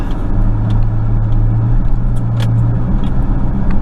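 A Chevrolet truck with a low-power fault drives under hard throttle, its engine a loud, steady low drone from inside the cab, with no talking.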